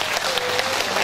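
Audience applause at an indoor Parents' Day reading concert for seniors in Daejeon's Seo District, a steady dense patter of many hands clapping at close range with no voices over it.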